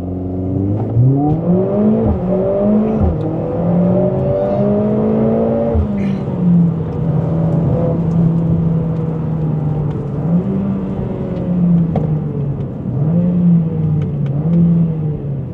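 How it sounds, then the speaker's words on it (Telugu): A Mercedes-AMG A45 S 4MATIC+ launches hard, its engine note climbing through several rising gear pulls and shift dips, loud and close throughout with no talking. "సో లాంచ్ చేసినప్పుడు మాత్రం లిటరలీ వెనకకు పుల్ చేస్తుంది."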